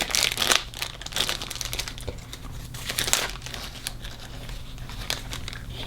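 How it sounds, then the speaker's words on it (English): Crinkling plastic wrapping pulled off a brand new Boker King Cutter black straight razor, a steady close run of crisp crackles with a few louder bursts, no talk. "Remove it from the plastic."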